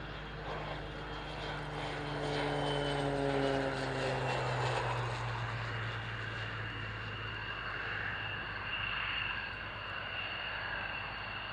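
Aircraft arrive at the Royal International Air Tattoo airshow, a loud engine passing near with a falling pitch sweep as it goes by, followed by a steady continuing drone of engines.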